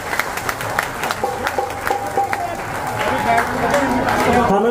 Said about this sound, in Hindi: एक बार जोर से ताली हो जाए बाबा शाम के लिए।